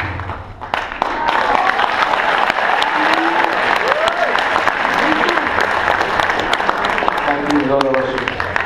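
Audience applause at an integration evening event, a sustained wash of clapping from a crowd with some cheering, while voices talk over it and brief whistle-like tones rise through the middle and end.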